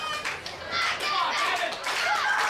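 A wrestling crowd in Salamanca claps and cheers steadily during a back-and-forth AEW match between Gavin Glass and Daniel Garcia, a dense, continuous wash of hands and voices with an announcer-like voice partly audible over it.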